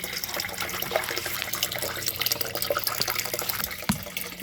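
Water pours steadily from a homemade filter packed with media into a waterfall box of a 300-gallon indoor turtle pond, a continuous close splashing trickle with no talk.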